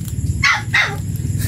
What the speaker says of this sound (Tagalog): Ingay ng tuta.